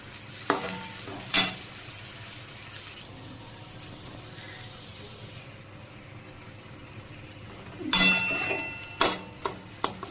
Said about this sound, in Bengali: দেখো ভাজা হয়ে গেছে ক্যাপসিকামটা সিদ্ধ।